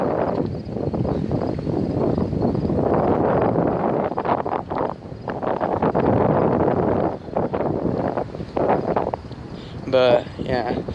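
Steady wind buffets the microphone outdoors on a walking trail, a loud continuous roar with gusts rising and falling throughout, and a brief voice near the end.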